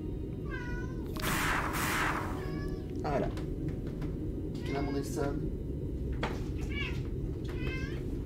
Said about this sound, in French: Il est parti en miaulement intempestif.